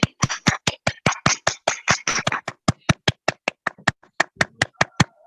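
Clapping welcomes a speaker at a Highrich team training session, steady rhythmic claps close to the microphone, very regular, as if one person or a small group keeps time, with no talk.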